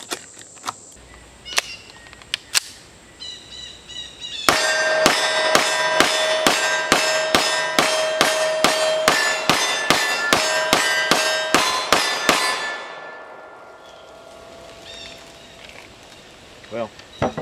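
A Springfield Armory 1911 DS Prodigy 9mm pistol fires a rapid string of about a dozen loud, evenly spaced shots with ringing echoes, preceded by a few scattered clanks and followed by a fading outdoor ambience, no talking.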